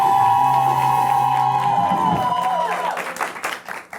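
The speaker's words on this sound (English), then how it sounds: "Please make some noise for the wonderful superstar" A studio audience at a talk show claps and cheers loudly, the applause sustained at first and then thinning out into scattered claps and whoops by the end.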